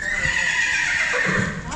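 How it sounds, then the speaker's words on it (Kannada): A horse gives one drawn-out, high neigh close by, its whinny wavering before it trails off. "ಕುದುರೆ ಭಾಳ ಜೋರ್ಲಿ ಅವ್ರ"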